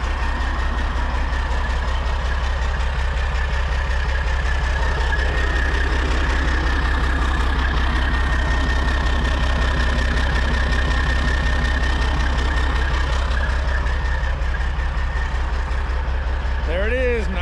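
A heavy truck hauling a wind farm crane idles loudly at close range during a roadside stop, its engine and exhaust holding a steady deep rumble, with voices talking faintly over it.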